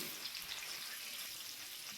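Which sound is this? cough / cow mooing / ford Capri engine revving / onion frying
onion frying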